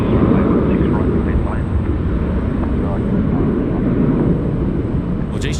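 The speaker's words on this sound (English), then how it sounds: "now we've got a Velocity 555 off to Perth, rolling now. That's what all the noise is about here at the moment." A Velocity airliner taking off from Sydney Airport on a flight to Perth makes a loud, steady low roar that fills the whole stretch, broad engine rumble with no pauses.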